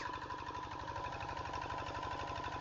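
A Kubota RD 85 diesel engine driving an NS 80 water pump to irrigate a rice field runs with a steady, close, rhythmic knocking drone and an even hum, without pause.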